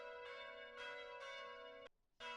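Bells ring in a video game, a bright tonal clang struck about five times in steady rhythm, each ringing briefly before the next, with a short silence before the last strike.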